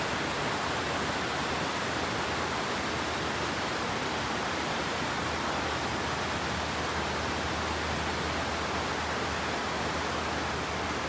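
Vickery Creek rushes past Old Mill Park in Roswell, Georgia, near its waterfalls, a loud, steady, unbroken wash of flowing water that fills the whole stretch with no voices.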